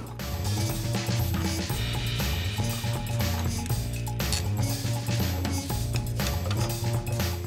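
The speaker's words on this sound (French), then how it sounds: "En premier, on va juste engager les boulons, histoire qu'elles nous tombent plus sur la tête" Bolts being engaged by hand on the steering rack of a Porsche 944, with metallic ratcheting and clinking mechanism sounds over a continuous backdrop of music, steady and fairly loud.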